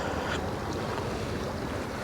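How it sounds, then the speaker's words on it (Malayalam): Sea water surges and washes continuously against rocks at Thalassery, with wind rushing over the microphone, a dense steady roar. "ഇവിടെ വന്നിട്ട് ഈ കല്ലിലടിച്ച് വെള്ളം തിരിച്ചു പോവുക"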